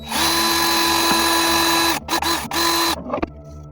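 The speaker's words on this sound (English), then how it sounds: "Countersink." A drill countersinks a hole in cedar wood, whirring loudly and steadily for two seconds, then stuttering in short bursts before stopping.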